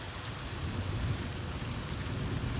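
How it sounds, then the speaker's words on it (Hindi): Heavy rain falls outside in a soft, continuous hiss, heard from indoors at a low level, steady and without gaps. "ये देखें, बड़ी तेज़ बारिश हो रही है।"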